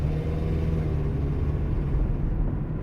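A car engine drones steadily at idle, a low rumbling exhaust note with a rough, leaky rasp running continuously throughout.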